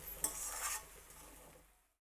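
Curry being stirred in a pan after salt is added, a few close scraping strokes of a spoon against the pan over a soft sizzle that fades out to silence.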